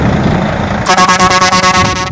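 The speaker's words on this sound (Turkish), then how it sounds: "Bir korna sesi duyalım Yasin." Loud, steady car horn blaring in a sustained honk from close by, preceded by a moment of engine and road rumble.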